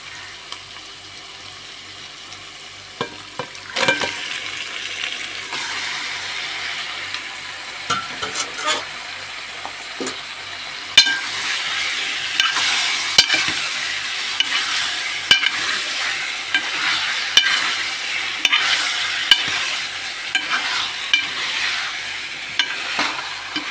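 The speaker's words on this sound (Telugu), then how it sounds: "ఉల్లిపాయలు ఫ్రై అయిపోయినాయి, చికెన్ వేసేసుకున్నాం ఇందులో." Chicken frying with onions in a pan, a continuous sizzle with stirring scrapes and clatters that grow louder partway through, no talking.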